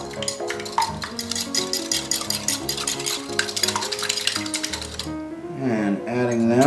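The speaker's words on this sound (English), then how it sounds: "starting with whisking the eggs" Eggs whisked in a bowl for a meatloaf, a rapid, steady clatter of the whisk against the bowl under background music, fading into a sustained tonal passage at the end.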